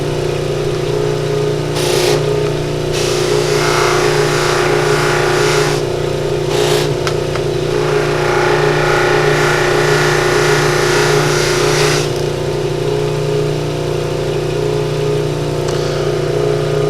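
A motor-driven buffing wheel spins with a loud, steady hum while it polishes a plastic CD jewel case with compound. The pitch dips and the sound roughens in several bursts as the case is pressed against the wheel.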